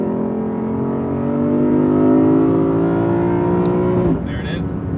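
A 2021 Lexus RC F engine climbs loudly and steadily toward its 7,200 RPM redline in Sport Plus manual mode, the pitch rising over about four seconds before dropping sharply as the revs fall away.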